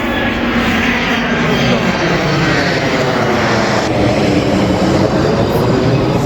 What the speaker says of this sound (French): Oh, il y a une autre avion là.